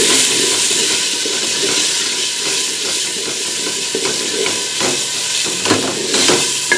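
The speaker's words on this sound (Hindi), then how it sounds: "लहसुन और हरी मिर्च मेरी भुन गई है। अब इसमें मैं टमाटर डाल दूँगी मेरे।" Tomatoes dropped into garlic and green chilies frying in a pan for bhindi masala give a steady, close sizzle and hiss, with a few sharper crackles and pops standing out near the end.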